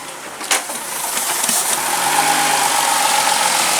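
Volkswagen Jetta engine idling roughly, a steady close engine drone with a faint whine, a brief knock near the start and no talking.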